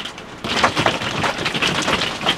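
Heavy rain and hail pounding steadily on a roof near Hoia Baciu forest, Romania, a dense broadband roar with scattered sharper impacts, continuous and fairly loud with no talking.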